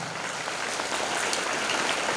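Students and audience clap for their teachers at a school pattimandram debate, a steady, even wash of applause that sounds like rain, moderately loud and continuous throughout.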